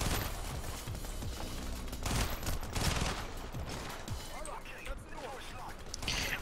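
Rapid automatic gunfire from an AK assault rifle and Mac 10s in the video game Payday 2, dense bursts and crashes running throughout, with voices talking over the shooting.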